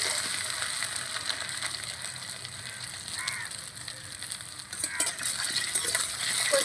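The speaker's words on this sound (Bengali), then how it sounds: "কচুগুলোকে আমি একটু ভালো করে ভেজে নেব।" Chunks of taro (gati kochu) fry in hot mustard oil in a wok, a dense continuous sizzle and crackle with scattered small pops and clinks throughout, close and fairly loud, no voices.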